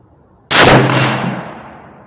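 A single loud rifle shot from a .308 Savage Axis fitted with a Burris scope and barrel stabilizer, a sharp close blast that rings out and decays over about a second and a half.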